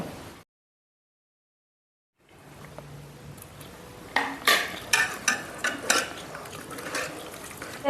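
Raw tamarind stew (pachi pulusu) mixed by hand in a bowl. After a brief silence comes a low wet rustle, then a run of soft squelching, sloshing pulses at a loose, irregular rhythm, close by and unaccompanied by speech.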